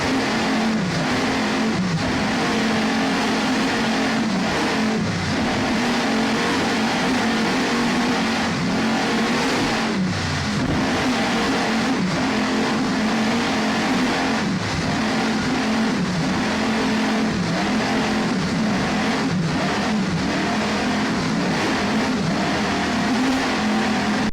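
Offshore racing powerboats at the 1999 Key West world championship race roar past with a loud, continuous engine drone that rises and falls in pitch, filling the whole stretch.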